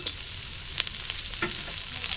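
Sliced onion fries in hot oil with a dense, steady sizzle up close, dotted by a few light clicks of a utensil against the pan.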